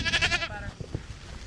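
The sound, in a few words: goats and sheep bleating on a farm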